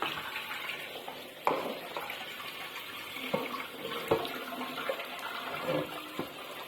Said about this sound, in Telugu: ఇలా శుభ్రంగా అయితే గోంగూరని కడుక్కోవాలండి